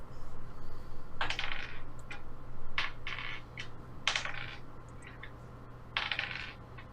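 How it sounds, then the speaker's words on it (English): Dice roll and clatter across a table during a tabletop role-playing game, in four short rattling bursts of tumbling clicks at close range, with no talking. "How many dice and rolls did you guys hear?"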